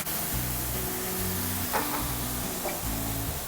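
Water pours into a sizzling pot of mung dal curry with summer vegetables, Kashmiri chili powder, coriander and salt, giving a steady loud hiss and bubbling that runs through the whole stretch alongside a faint, low, repeating tonal backdrop.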